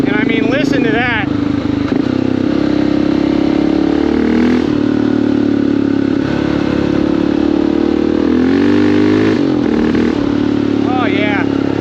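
A carbureted, air-cooled Honda XR650L dual-sport motorcycle engine rumbles loudly up close, revving and settling repeatedly, with a voice talking briefly over it.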